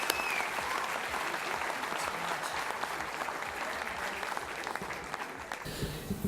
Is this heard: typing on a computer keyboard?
no